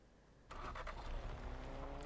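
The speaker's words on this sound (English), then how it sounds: "Flipping the car, and then you just need to get out and flip it back over" An overturned car in the Fortnite video game is flipped upright, making a sudden loud thud and scraping rumble after a quiet moment, with a faint engine tone afterward.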